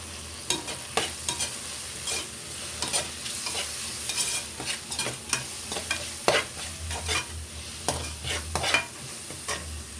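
Mint leaves stirred into tomato gravy frying for a chicken curry, with a steady sizzle broken by repeated spoon scrapes and stirring clatter close by, and no talking.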